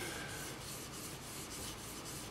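A plane blade is rubbed back and forth on a cheap 4000-grit water stone from a sharpening kit, making a close, steady rasping scrape in regular strokes, with no voices.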